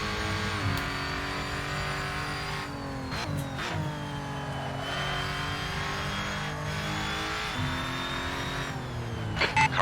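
A Lotus Evora GX race car drives laps at Chang circuit in Assetto Corsa, its engine droning steadily with rising and falling pitch through gear changes, loud and constant with a few brief shifts and bursts.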